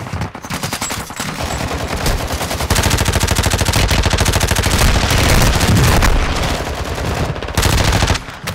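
An enemy fires sustained automatic gunfire in a video game, a loud, rapid burst of shots that runs almost without pause and peaks in the middle.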